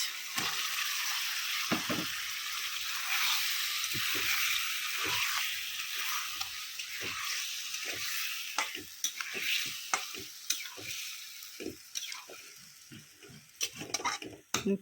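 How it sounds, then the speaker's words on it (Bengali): Fish frying in a spiced masala in a pan at home, a steady close sizzle running throughout with frequent sharp clinks and scrapes of a spatula stirring against the pan. "তো এখন এই মশলার মধ্যে দিয়ে দিব আমি মাছ"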